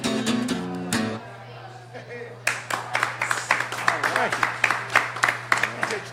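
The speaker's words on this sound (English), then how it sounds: "Look, the people in the restaurant are all clapping" Diners in a restaurant break into scattered clapping that builds into steady applause, mixed with crowd chatter and a low hum in the room.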